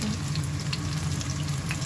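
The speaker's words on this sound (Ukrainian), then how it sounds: "Вони гарно так само смажаться і перевертаються." Potato pancakes mixed with minced meat fry steadily in a pan of hot oil, giving a continuous close, loud sizzle with a low rumble under it and no talking.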